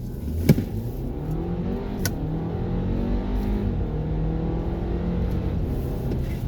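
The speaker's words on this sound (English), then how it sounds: "I'm going to do it from launch control" A 2020 Audi Q5 pulls away from a launch-control start, its engine note climbing steadily and continuously from a held idle of around 2,000 RPM, heard from inside the cabin with no talking.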